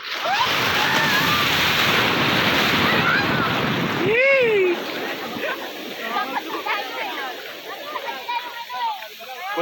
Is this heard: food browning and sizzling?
no